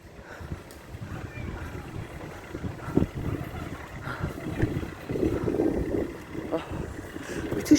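Gusty wind buffets the microphone with low rumbling bursts, growing stronger toward the end, while faint voices murmur in the background.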